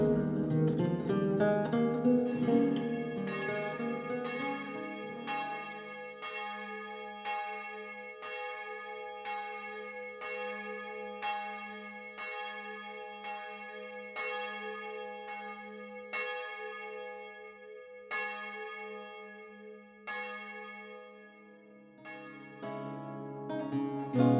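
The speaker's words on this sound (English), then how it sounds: "The oldest bell that we have goes back to the early 14th century. It's the Angelus bell right behind me." The early 14th-century Angelus bell of Cologne's Gothic cathedral rings alone in slow, evenly spaced strokes, each leaving a long shimmering hum, while a dense wash of overlapping toll opens the ringing and returns at its close.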